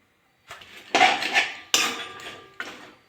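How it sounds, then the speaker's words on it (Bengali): Clattering metal on a wok as beans go into water, a few distinct bangs and scrapes of pot and utensil after a brief silence, close and fairly loud with no speech. "কড়াতে আমি জল দিয়ে দিয়েছি আর কড়াতে আমি শিমগুলো দিয়ে দেবো"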